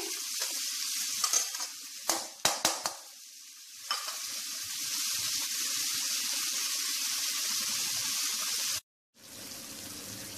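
Onions lightly frying in a pan for Mumbai-style pav bhaji give a steady, close sizzle. A few clanks of stirring come early, and the sizzle cuts out briefly near the end.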